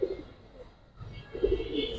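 Racer pigeons of a prized colour strain coo softly in a brief low murmur, a short call near the start and a fuller burst of cooing toward the end, with no talk over them.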